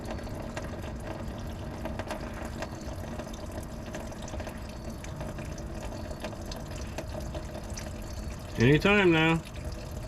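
Fuel pours steadily out of a tank in a continuous liquid splashing stream, with someone briefly speaking over it near the end.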